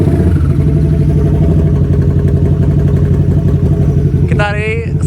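A stance-style motorcycle engine revs loudly and steadily up close, its exhaust rumbling with a throaty, pulsing drone; near the end a whistling, rising squeal cuts in over the steady engine noise.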